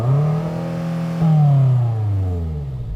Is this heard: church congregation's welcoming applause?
no